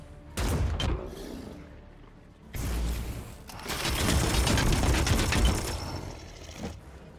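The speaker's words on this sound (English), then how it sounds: "just firing a single shot first and seeing how it goes" Gunfire from the Chaos Gate video game erupts in loud bursts, a short crack followed by a longer rattling, rumbling volley that fades out, heard alone without talk.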